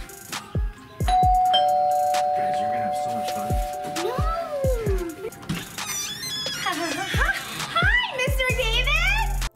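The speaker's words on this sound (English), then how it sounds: "Did they just ring their doorbell to their own house?" A doorbell chimes a ding-dong tone, followed by lively background sounds and children's voices with some squeals.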